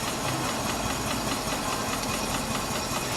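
Cale steam engine running at about 250 RPM, belted to an alternator generating DC power, a steady close chugging and hissing drone with a faint rhythmic knock throughout.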